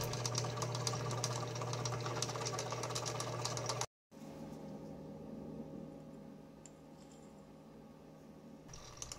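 A metal lathe drills and reams a 1/4 inch hole in the end of a spindle for a Benchmaster horizontal mill: a steady mechanical hum with a rhythmic chatter, a brief silent break, then a quieter, smoother whir.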